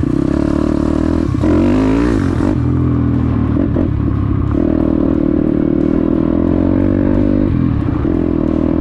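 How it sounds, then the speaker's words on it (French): A Daytona 212 cc motorcycle rides in gear, its loud, close engine droning continuously with throttle swells and a shift in pitch partway through, mechanical clatter riding on the low rumble. "On va la faire rouler tranquillement."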